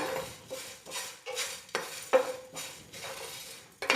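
Egg, pepper and curry leaves fry over a low flame in a pan, as a metal spatula stirs and scrapes in repeated rhythmic clanks over a soft background sizzle, with no voices.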